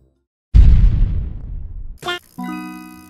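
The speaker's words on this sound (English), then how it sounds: "I'm going to put some Michael Bay explosions on that" A big cinematic explosion sound effect added over a Guts and Glory game clip. One sudden loud blast decays over about a second and a half, followed by short electronic tones.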